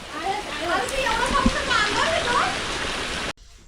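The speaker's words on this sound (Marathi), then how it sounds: "अरे इथंच आला पाऊस" Steady monsoon rain patter on the Mumbai–Goa highway fills the background, with a brief thud in the middle, before cutting off abruptly near the end.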